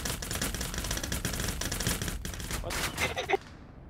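Rapid bursts of gunfire in the space game Starfarer, dense clattering shots from an LMG or railgun fired at ghosts outside the ship, loud and continuous with a few sharper single reports near the end.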